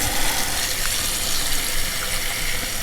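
Water runs from a tap into a small pot holding corned venison, a continuous, fairly loud gushing splash that holds steady for nearly three seconds with no talk.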